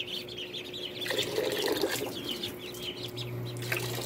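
Week-old Pekin ducklings chirp and peep softly while splashing in fresh water, a steady faint wash of water under scattered small calls, with no talking.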